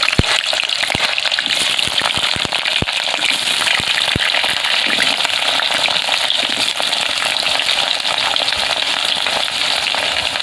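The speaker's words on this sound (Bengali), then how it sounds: "কড়াই দেবো সরষের তেল, আলুটা ভেজে নেব ভালো করে" Cut potatoes fry in hot mustard oil in a wok, a loud, dense, unbroken sizzle with scattered sharp spattering pops throughout.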